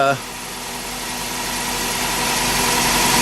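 Engine of a 2001 Toyota Camry with a failing charging system, running steadily with a broad mechanical whir that slowly builds, after a brief spoken moment at the start.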